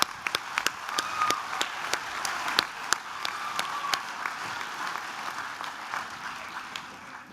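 Applause for ESOL Level 4 graduates at a school graduation ceremony: a steady, crowd-wide clapping that holds through the whole stretch, with sharp individual claps standing out near the front.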